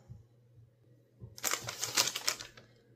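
A bag is cut open at a sewing and knitting table, giving a close, crisp run of rapid snipping and crackling that lasts about a second after quiet low background hum.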